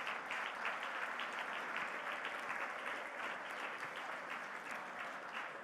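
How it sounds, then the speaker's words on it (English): Sustained audience applause at the Rolex LPGA awards ceremony, a dense, even wash of many hands clapping throughout, heard from within the hall without a break. "So I would love it if everyone would give that team a big round of applause."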